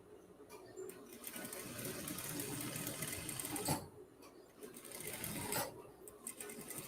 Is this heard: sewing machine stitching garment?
yes